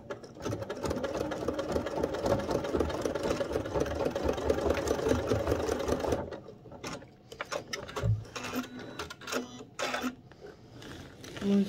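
A sewing machine stitches chenille backward with a steady, busy mechanical chatter for about six seconds, then stops, leaving scattered clicks and handling noises.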